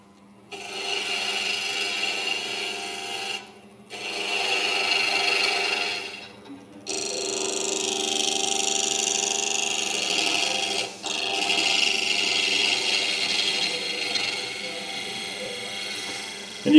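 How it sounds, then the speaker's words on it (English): Turning tool bevel cutting a wooden cube on a spinning lathe at a woodworking club demonstration: sustained rasping, scraping cuts in long passes separated by short pauses, with a hum underneath and people talking over it. "you can hear when you're stopping hitting air because the bevel's running sweet on the wood, and it goes a lot quieter"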